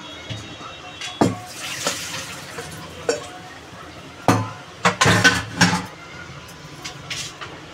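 Boiled elephant foot yam is poured from a pot into a strainer basket in a home kitchen. Water splashes and runs in short bursts, and metal pots and utensils clink close by, while a voice talks intermittently.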